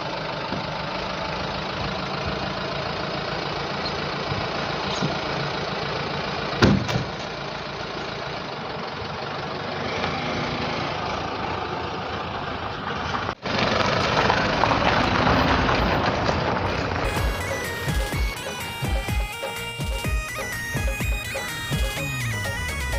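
A car engine runs at idle, a steady, loud, rough rumble that holds throughout with a brief clunk midway and a shift in tone near the end, with no voices over it.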